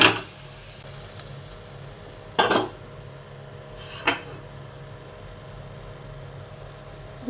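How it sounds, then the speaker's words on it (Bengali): Fried ash gourd and potatoes go into a spiced pan, giving two brief bursts of scraping and clatter over a faint background hiss. No one speaks. "দিয়ে এবার এই আনাজগুলো, সবজিগুলো আমরা দিয়ে দেবো। চাল কুমড়ো আর আলু ভেজে রেখেছিলাম, দিয়ে দিচ্ছি।"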